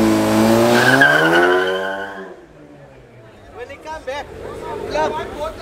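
Street-racing cars on a Johannesburg road, a Capella among them, skid with a loud tire squeal that fades after about two seconds, followed by quieter engine noise and crowd chatter nearby.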